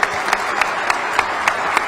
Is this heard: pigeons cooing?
no